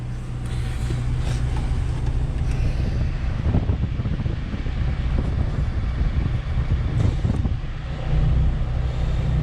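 Dash air conditioning in a 2016 Thor Chateau 26B Class C gas motorhome blowing from the vent at idle, a steady broadband rushing airflow with a low engine rumble underneath, close and continuous.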